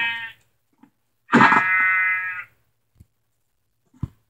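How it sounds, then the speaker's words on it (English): Minecraft sheep bleats in a video game, one loud wavering bleat in the middle of the clip with a shorter one at the start and faint clicks between, no speech. "Rainbow sheep!"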